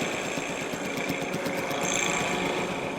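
A tractor engine idling beside an auger machine that is still running on a farm, a steady loud mechanical drone with a fast rhythmic clatter and high whine throughout.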